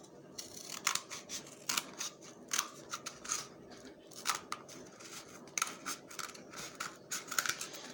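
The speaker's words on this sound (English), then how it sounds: "you need to cut one of your half tubes down the middle" Scissors snip repeatedly through a plastic half tube for a homemade telescope, a close run of crisp, uneven cuts spread across the whole stretch.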